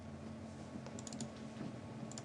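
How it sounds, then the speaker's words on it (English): Someone types on a Saturn 60 custom mechanical keyboard, a quiet, continuous patter of keystrokes with a few brighter clicks, heard close and without talk. "Oh, this feels really good to type on."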